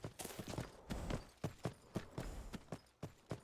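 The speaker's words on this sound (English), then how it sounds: "Random horse?" Horse hooves clip-clop at a steady trotting rhythm in the video game Skyrim, with crisp, evenly spaced hoofbeats at moderate volume and no talking.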